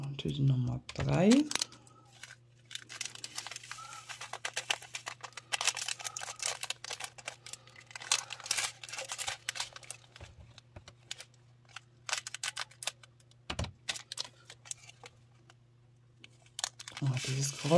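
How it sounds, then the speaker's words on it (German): A dense patter of tiny plastic diamond painting drills pouring and rattling into a container, crisp clicking bursts over a steady low hum, with brief handling noises at the start and end. "dieses Geräusch, wenn die Steinchen da so reinschütten"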